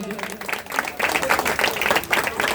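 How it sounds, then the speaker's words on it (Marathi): Audience at a Shiv Jayanti cultural program applauding, a dense wash of clapping from a crowd that swells and continues steadily throughout, fairly close. "एकदा जोरदार टाळ्या झाल्या पाहिजे."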